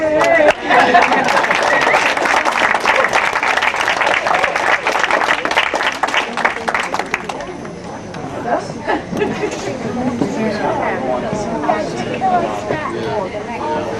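Guests at a 1993 reception clap loudly and briskly for several seconds, then the applause fades into chatter and murmuring voices.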